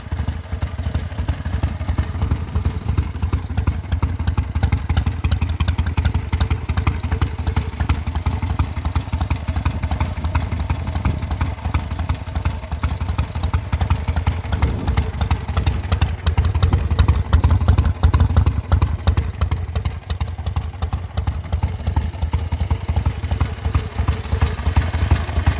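A 1976 Harley-Davidson XLH Ironhead Sportster 1000cc engine idles close by with a loud, lumpy, clattering rumble and steady thumping pulses, running without voices over it.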